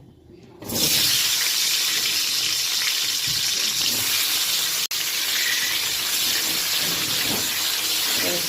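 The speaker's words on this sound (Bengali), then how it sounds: "এই যে তেলটা আছে এই তেলের মধ্যেই ফুলকপিটা দিয়ে এবার ভাজা করব" Cauliflower florets fry in leftover oil from tangra fish, giving a loud, steady hiss that starts after a quiet second and runs unbroken apart from one brief dropout.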